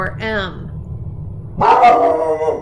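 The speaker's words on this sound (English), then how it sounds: "Sorry about my dog." A pet dog in a home barks loudly twice, once with a short bark and then with a longer one, with a person talking in between.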